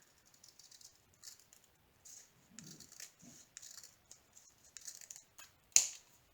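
A diamond painting sheet being cut out with scissors: quiet, irregular snips and paper rustles close by, ending in one sharper, louder snap. No one speaks.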